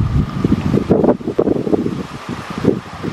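Gusty wind rushes and buffets the microphone in uneven surges in Queens Park in August, loud and close, with no voices.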